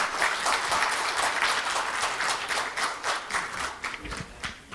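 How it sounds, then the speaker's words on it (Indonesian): Audience applause at an event honouring former Indonesian education ministers, a dense, steady round of clapping from a large crowd, loud and continuous for several seconds with no talk over it. "Tepuk tangan."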